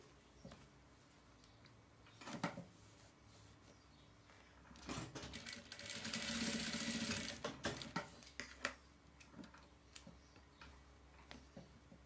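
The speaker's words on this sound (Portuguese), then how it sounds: "Vou passar uma costurinha aqui" A sewing machine stitching a baby's diaper-cover overall, with short mechanical bursts early on and a longer, steadier run of stitching in the middle, set among soft clicks and handling noises in a quiet room.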